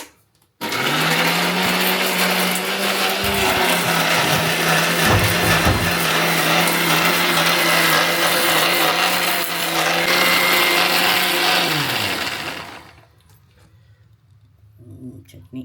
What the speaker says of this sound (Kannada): ಪ್ರತಿ ಸಲ ವಿಡಿಯೋ ಮಾಡೋ ಟೈಮಲ್ಲಿ ನೆನಪಾಗುತ್ತೆ ಮಿಕ್ಸಿ ಸರಿ ಇಲ್ಲ ಅಂತ